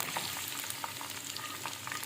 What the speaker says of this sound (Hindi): बड़े साइज़ के अनियन हमने काट लिए हैं, और इसको हम अब डालते हैं ऑयल के अंदर।